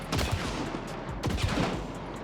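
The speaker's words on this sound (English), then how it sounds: "the slugs with the Crown and King, in my opinion, is the best shotgun in the game." Crown and King shotgun loaded with slugs firing twice in Hunt: Showdown 1896, each a loud, booming blast with a rolling tail that fills the clip.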